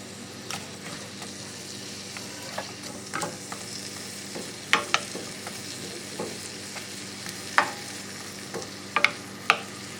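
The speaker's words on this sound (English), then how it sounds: "get those onions cooking up first" Onions cooking in a heated pan for a wild burdock and milkweed stir-fry, giving a steady soft sizzle broken by scattered clicks and scrapes of a spoon stirring, close and alone with no voices.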